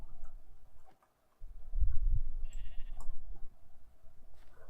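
A Minecraft sheep in the Heresy modpack gives a few short bleats, fairly close and clear over a quiet game background with faint clicks.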